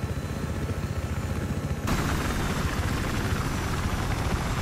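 A helicopter in the military shooter video game Battlefield 3 gives off a loud, continuous rotor whir with a rapid pulsing chop. Partway through, a brighter burst of rushing noise thickens the sound, and nobody speaks.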